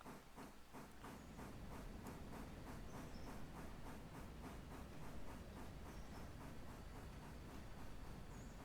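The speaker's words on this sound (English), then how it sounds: "I love these big long trains." A long freight train of 15 cars and about 790 tons rolls past on the rails with a steady, continuous rumble and a rhythmic, regular clicking of wheels over rail joints, near and fairly loud throughout.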